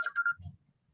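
A phone rings in three short repeated tonal bursts during the first half second, followed by a brief low rumble and then near silence; no talking over it.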